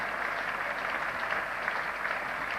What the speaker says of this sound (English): getting a big hand from another great crowd here at Lord's